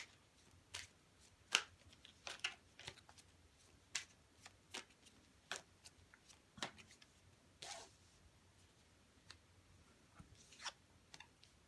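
Tarot cards being shuffled and drawn at close range: soft riffles, snaps and flicks of card stock come in scattered bursts over a quiet room.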